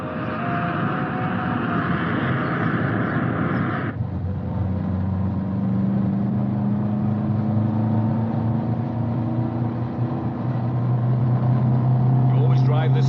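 A car driven fast gives a steady engine roar heard from inside the cabin, shifting in tone partway through, under people talking.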